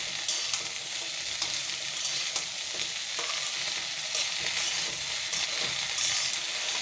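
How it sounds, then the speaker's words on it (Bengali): Fresh okra frying in a pan gives a continuous, even sizzle of hot oil, with scattered soft clicks of stirring throughout and no voices. "ঢেঁড়সগুলোকে একটু ভেজে নেব"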